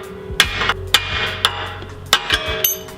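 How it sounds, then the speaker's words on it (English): Sharp metallic hammer strikes on a Lexus car part, about eight irregular blows in quick succession, close and ringing, with clanks between hits. "Take your trusty hammer."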